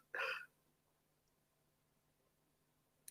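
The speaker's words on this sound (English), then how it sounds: "Oh, I've got hiccups now." A single short, sharp hiccup sounds close up at the start, then quiet room tone with a faint steady hum follows.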